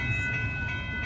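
A northbound Union Pacific auto train rolls past at Dittmar Road in Austin, Texas, a steady loud rumble with ringing metallic tones and no speech.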